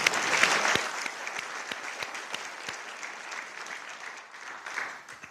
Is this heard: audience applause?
yes